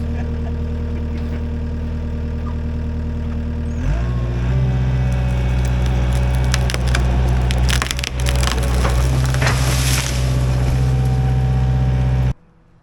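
A tree cut with a battery-powered electric saw cracks and splinters as it goes over, a loud sustained burst of breaking wood heard close up with a running engine underneath, ending abruptly.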